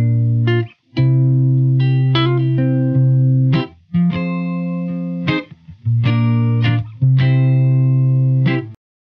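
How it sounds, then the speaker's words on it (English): Yamaha SA2200 electric guitar played through a Silktone amp, loud sustained chords struck in several separate phrases with brief pauses between, warm and slightly driven, no talking. "Silktone amp sounds like this"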